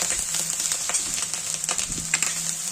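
Wheat grains stir-roasted in a pan for a sweet wheat pudding, a steady close hiss with light scraping and rattling of grains under the stirring, continuous and fairly loud.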